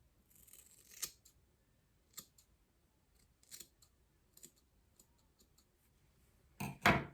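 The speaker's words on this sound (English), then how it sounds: "I think I might just cut my hair again." Scissors snipping through a person's own hair in a quiet room, with a handful of sharp, isolated cuts spaced a second or so apart, close to the ear, and a louder cluster near the end.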